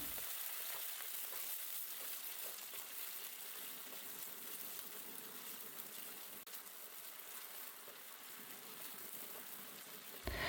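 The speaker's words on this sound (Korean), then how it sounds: "팬을 충분히 닦은 후에 양파, 샐러리, 당근을 볶아주세요." Onion, celery and carrot sautéing in a pan for a red wine sauce, a steady soft sizzle and hiss throughout, fairly quiet and close with no talking.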